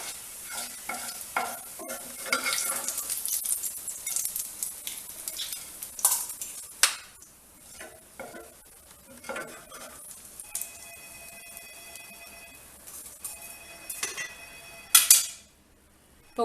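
Garlic frying in plenty of oil for a garlic podi, a close crackling sizzle with spatula scrapes and clinks that thins out partway through, then a sharp metallic knock near the end.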